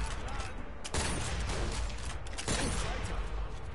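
Dense rattling gunfire in the co-op shooter Sniper Hell Remastered, a continuous loud fusillade of overlapping shots with sharper bursts around one and two and a half seconds, close and unbroken.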